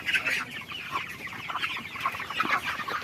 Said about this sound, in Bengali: সজীব, এদিক থেকে কিছু মুরগি তোলো, তুমি 5টা মুরগি ধরো, আসো।